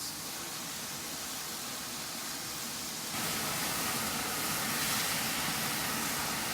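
Beef and broccoli sizzle hard in a hot cast iron wok, a steady broadband hiss that grows louder and brighter about halfway through, close and continuous with no talking.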